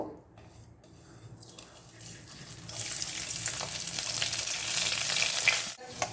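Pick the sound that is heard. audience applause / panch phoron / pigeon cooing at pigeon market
panch phoron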